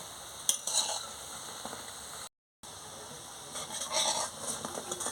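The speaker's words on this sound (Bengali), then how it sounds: "বড়াটা কি সুন্দর ফুলে গেছে ভালো করে ভাজা হচ্ছে" Soybean and gram-flour fritters fry in hot oil with a steady, close sizzling hiss, with a few louder bubbling swells and a brief drop to silence partway through. No voices.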